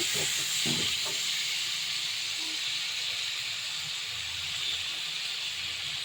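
New potatoes, cut and washed, fry in a pan with a steady, close hiss that fills the whole stretch, a few soft knocks near the start and no talk.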